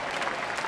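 A sellout baseball crowd at Miller Park applauds and cheers steadily as the Cardinals, visiting the Brewers, come down to their last out; a dense, close wash of clapping with no let-up.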